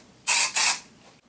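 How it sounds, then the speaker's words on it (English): Label M texturising spray sprayed onto hair: two short, loud aerosol bursts close to the mic, a brief gap between them, then a soft click, with no talking. "So we're going to take our Label M texturising spray,"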